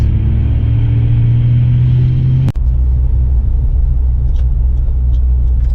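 A Mitsubishi Galant VR-4 engine, tuned on E85 with 1000cc injectors, idles with a steady low rumble, broken by a brief sharp dropout midway before the drone carries on unchanged.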